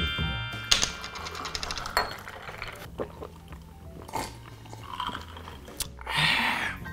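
Someone chews king black tiger shrimp close to the microphone, producing wet, crunchy bites and irregular mastication sounds with no talking.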